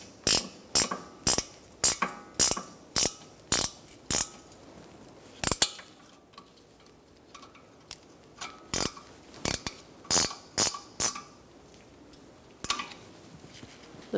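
Ratchet clicking in quick bursts while snugging rear brake bolts on a 2012-2019 Fiat 500, close and sharp, several runs of rapid ticks separated by short pauses, no talk.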